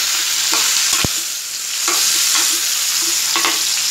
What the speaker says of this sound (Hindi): अब मुठिया डाल दें उसमें और इसको मिक्स कर दें।